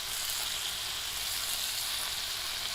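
Liver tikka pieces frying in a pan give a steady, close, even sizzle throughout, with no distinct flipping sounds standing out and no voices.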